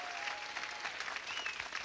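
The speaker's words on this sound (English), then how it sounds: "Round of applause." An audience breaks into continuous applause, with steady clapping from many hands at a moderate distance throughout.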